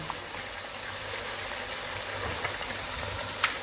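Olive tagine ingredients fry in a pan with a soft, continuous sizzle, faint and close, broken by a couple of small utensil clicks near the end.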